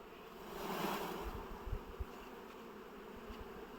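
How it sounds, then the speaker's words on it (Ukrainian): Young honeybees buzz as they are shaken off a hive frame, a steady, moderately faint drone that swells briefly near the start, with a few low thumps from the shaking and no talk. "а це друга в'яда, вся молода пчела. Так, опять підтрясаємо."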